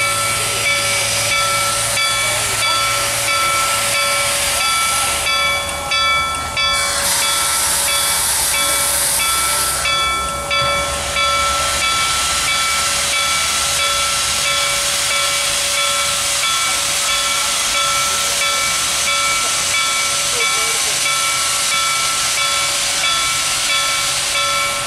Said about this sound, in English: 2102 blew off the cylinders and rang the bell